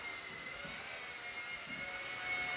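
Eachine E130 RC helicopter hovering, its small rotor and motor giving a steady, even whine that holds at a constant level throughout with no talk.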